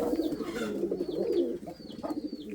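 Indian fantail pigeon cooing close by in repeated low throaty rolls, with a few faint higher chirps over it and no talking.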